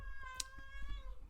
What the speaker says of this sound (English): That's my cat, Pumpy.